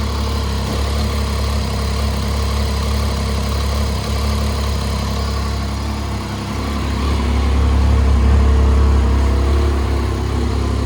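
A Triumph Street Triple R 675 motorcycle engine idles steadily up close, a continuous loud mechanical rumble that swells slightly in the last few seconds.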